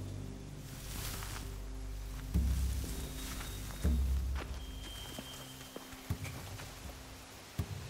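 Horses in The Walking Dead video game, heard as soft hoof clops and a few heavier thuds over a quiet outdoor ambience, with brief louder knocks scattered through.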